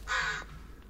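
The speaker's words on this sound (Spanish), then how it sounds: "¿Cómo suenan los cuervos," A crow caws once in the Blair Witch video game, a single harsh, close call lasting under half a second over a faint ambient bed.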